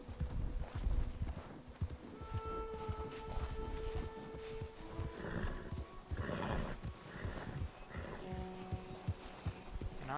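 Faint clip-clopping horse hooves in the video game Red Dead Redemption 2 walk at an unhurried pace amid soft ambient noise and occasional distant animal sounds.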